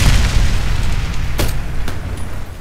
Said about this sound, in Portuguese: Bomba detonada.